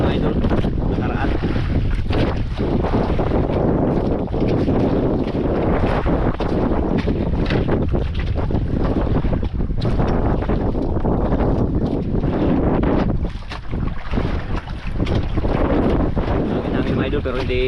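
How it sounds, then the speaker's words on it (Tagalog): Strong wind buffets the microphone in loud, continuous gusts while fishing at sea, with moderate waves and boat noise mixed underneath. "Mangin-hangin lang siya kunti."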